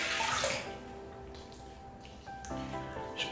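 Tap water runs steadily into a sink during a wet shave, a continuous close splashing with a few brief clinks and tones over it.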